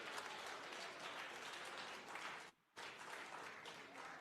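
A crowd clapping steadily and densely for a few seconds, fairly faint and distant, breaking off briefly in a short silence before the clapping resumes at the same level.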